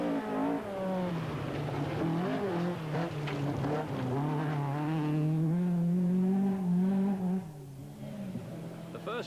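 Opel Manta two-wheel-drive rally car driven on a loose gravel stage at the 1986 Welsh Rally, its engine holding a steady, loud note with rising and falling pitch shifts and some commentary voice mixed in.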